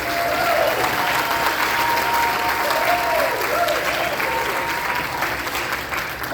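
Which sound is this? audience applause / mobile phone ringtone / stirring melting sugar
audience applause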